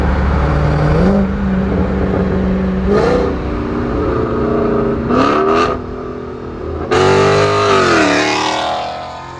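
A Ford Focus ST accelerates hard through the gears, its engine note climbing steeply in loud, close sweeps broken by brief gear-change dips, the last pull the strongest.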